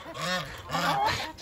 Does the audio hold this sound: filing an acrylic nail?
no